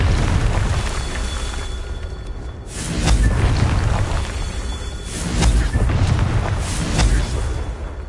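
Explosions from the Confringo fire spell in a PS4 game, heard as heavy, booming, rumbling blasts that recur every few seconds over loud, continuous background noise.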